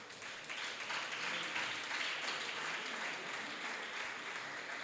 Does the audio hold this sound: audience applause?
yes